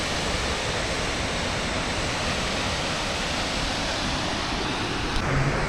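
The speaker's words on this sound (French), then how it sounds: "Dernière cascade du trip, clairement." Waterfall on a hike in Iceland, a dense, steady roar of falling water at close range that stays constant and loud with no breaks.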